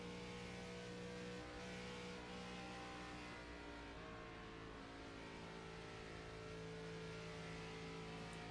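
Race car engine in the iRacing sim on an ARCA Autotrader 250 at Kansas, throttle feeding into turn 1: steady, loud engine drone with layered harmonics that stays continuous throughout, no talk over it.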